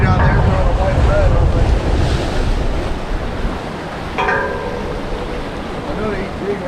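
Strong gusting wind buffets the microphone over crashing surf at a Florida fishing inlet, a loud continuous rumble with breaking waves, and a voice speaks briefly through it.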